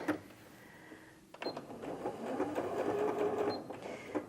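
A Janome 230DC sewing machine stitching fabric, a quick run of rapid mechanical needle clatter after a brief click, fairly close and steady, with no talking.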